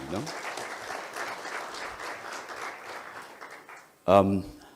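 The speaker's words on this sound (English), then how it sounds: "Let's clap for Kenya Power tafadhali" An audience claps in steady, continuous applause for Kenya Power at a live televised event, the dense patter holding moderately loud before a brief louder voice breaks in near the end.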